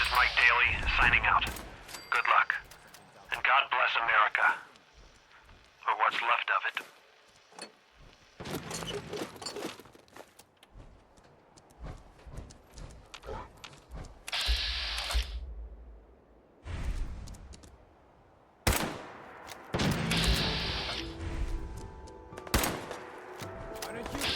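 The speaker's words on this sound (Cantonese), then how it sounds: "用呢支鐵管全紅色步槍去同呢啲掠奪者戰鬥" Bursts of pipe rifle gunfire while fighting raiders in the video game Fallout 4, with rapid volleys of shots separated by pauses, mechanical clanks and thuds, loud and close, mixed with game effects.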